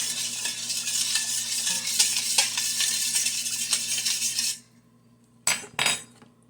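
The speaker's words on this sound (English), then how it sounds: "Stir till salt and sugar is dissolved." Spoon stirring hot water in a bowl to dissolve salt and sugar for bread dough, a continuous close scraping swish for several seconds, then silence and two brief clinks.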